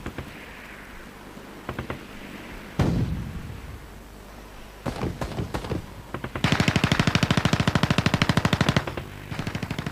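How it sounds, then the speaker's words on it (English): Gunfire is exchanged around the Beersheba police fort in 1948, with scattered single shots and short bursts building to a loud sustained rattle of machine-gun fire and dull booms, with no speech. "After an exchange of fire, Egyptians inside the Beersheba police fort surrendered"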